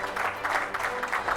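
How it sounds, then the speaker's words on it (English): Brief, steady applause from an audience at a leadership conclave, a dense wash of clapping at moderate level with no break over its short length. "Please give them a big round of applause."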